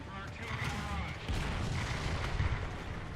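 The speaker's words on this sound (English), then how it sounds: "somebody's firing artillery at me" Artillery fire in the War Thunder tank battle game, a dense continuous rumble of booms and blasts filling the background throughout, with a voice talking over it.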